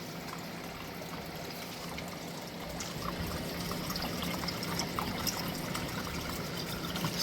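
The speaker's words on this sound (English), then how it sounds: "See the water dripping from the dehu there" Water from a dehumidifier drips and trickles into a garden pond in a constant, fairly faint stream that grows a little louder partway through, with no voices over it.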